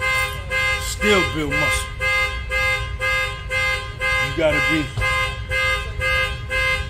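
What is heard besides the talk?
car alarm going off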